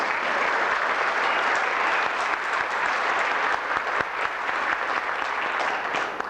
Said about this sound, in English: Big round of applause, everybody, for Shane Cox.